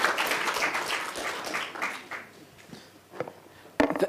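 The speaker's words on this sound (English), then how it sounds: "Clap for him." Applause from an audience after a business pitch at a competition semi-final, loud clapping at first that thins out and fades to scattered claps, ending with a brief sharp burst.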